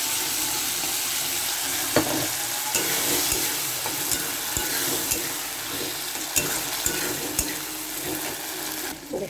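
Tomato, green chilli and cashew paste sizzling loudly in a pan while a utensil stirs and scrapes it, giving steady frying hiss with intermittent knocks and clinks.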